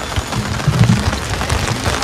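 Rain falls steadily in a street of closed shops, a dense close patter with soft low thuds of drops, continuous and fairly loud.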